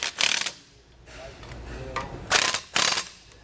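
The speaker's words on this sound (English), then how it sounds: "And then tighten those down with your 9/16 socket." A ratcheting 9/16 socket wrench tightens bolts on the bracket of an electric disc brake assembly on a trailer, giving several close, quick clicking bursts separated by short pauses.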